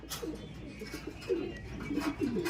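A gray pigeon coos in soft, low, rounded repeated calls close by, several short phrases over a faint background hum.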